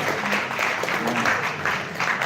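Small group clapping together to welcome someone at a devotion gathering on a Holy Land tour, steady close applause with a voice speaking briefly over it.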